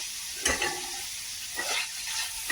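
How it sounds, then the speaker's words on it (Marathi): Capsicum and onion sauté with mixed vegetables in a pan for veg Kolhapuri, a steady sizzle broken by two or three scraping stirs, close and moderately loud with no voices. "आता याच्यात बघा शिमला मिरची कांदा घेतलाय ना आता तो पण आता परतून घ्यायचे आपणाला भाज्यांसंग"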